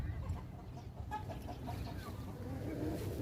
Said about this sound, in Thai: ไล่ไก่เข้าบ้าน